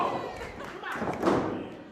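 During a wrestling match, a wrestler lands a Vader bomb in the ring with a single heavy thud on the canvas, heard under excited commentary.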